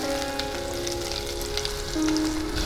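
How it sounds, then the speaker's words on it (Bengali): New potatoes frying in oil in a pan, a steady close sizzle running unbroken throughout with a slight swell near the end. "আমি ভেজে নিচ্ছি"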